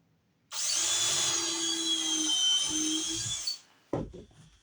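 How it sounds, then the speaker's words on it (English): A power drill whines at high speed for about three seconds, pitch dipping briefly as it bites into wood to drill a pilot hole in a hand sled rail, then stops, followed by a couple of light knocks. "is drill a pilot hole"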